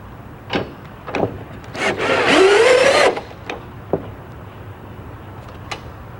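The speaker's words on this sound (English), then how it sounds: "Just screw right down." A power driver sets one-inch bevel-head screws into pre-drilled holes in an aluminium greenhouse rear-wall window profile, giving one loud whirring burst with a rising whine of about a second, framed by a few sharp knocks and clicks.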